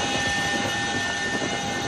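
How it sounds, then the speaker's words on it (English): Helicopter rotor blades during a Navy SEAL raid on an Afghan village, heard as a steady, loud, broadband engine roar with faint rhythmic throbbing that fills the whole stretch. "people in the village would be able to hear the pounding chopper blades"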